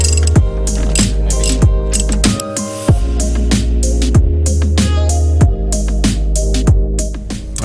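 Rapid clicking of a ratchet wrench backing out bolts on the power steering rack of a Dodge Viper, repeated pawl clicks in quick bursts with sharp tool knocks, close and loud with no talking.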